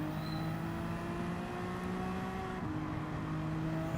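Race car engine in a racing video game winding up steadily out of a hairpin in first gear, a smooth continuous whine that shifts pitch once partway, alone and moderately quiet.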